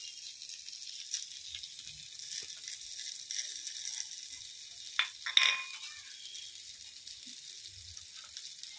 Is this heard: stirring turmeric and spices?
yes